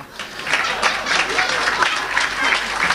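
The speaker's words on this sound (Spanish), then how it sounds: "Y todavía te aplauden" Audience applause and cheering at a live rock comedy show in Ayacucho, a dense steady wash of clapping that fills the whole stretch, loud and close, with crowd voices mixed in.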